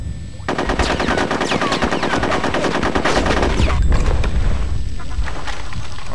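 Loud sustained automatic gunfire in Conker's Bad Fur Day, a rapid rattling stream of shots lasting several seconds, close and dominant, with a few heavier impacts near the end.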